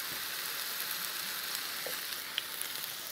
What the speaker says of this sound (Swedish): Det gäller att fräsa försiktigt här.